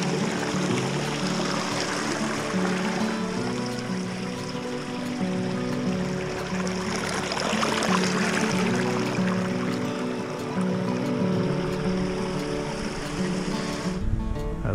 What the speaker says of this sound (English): Kind of a cool area with the creek flowing by us.